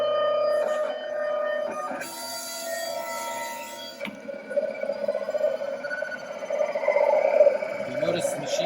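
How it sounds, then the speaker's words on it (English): A vinyl cutter cutting a design hums and whirs in warbling, sci-fi-sounding tones, with stepping motor moves and sliding pitch sweeps. The noise is steady and close and grows louder toward the end. "You notice the machine makes some pretty cool sci-fi noises."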